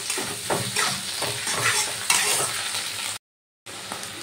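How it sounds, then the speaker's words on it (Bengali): Ginger paste and chopped tomato stir-fried in a pan: steady close sizzling with scraping spatula strokes against the metal, continuous and fairly loud, broken by a brief silent gap near the end before the frying resumes. "আদা বাটাটা দিয়ে ভালো করে কষিয়ে নিতে হবে।"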